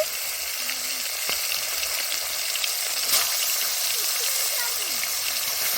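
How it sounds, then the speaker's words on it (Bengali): Snakehead fish frying in hot oil in a pan, giving a steady, loud broadband sizzle that runs continuously throughout, with faint voices in the background. "এই যে তেল গরম হয়েছে মাছ দিয়ে দিয়েছি"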